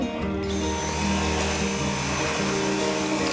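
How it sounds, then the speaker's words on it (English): A newly bought household vacuum cleaner runs close by with a loud, steady motor hum and whine whose pitch shifts slightly as it moves, heard alone. "can't believe how excited I am about a vacuum."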